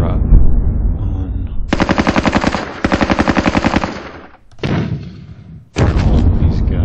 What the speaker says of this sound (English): it's 81mm mortar, so let's keep the fire up on